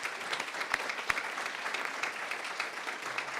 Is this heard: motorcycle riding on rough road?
no